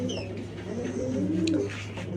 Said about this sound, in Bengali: সবগুলো কবুতর ডিম নিয়ে বসে আছে